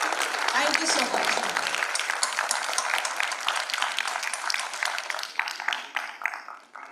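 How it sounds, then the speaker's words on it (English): Audience applause for young students at a technology conference, dense clapping from a hall crowd that holds steady and then thins toward the end, with a voice briefly heard early on. "give them a big, huge round of applause"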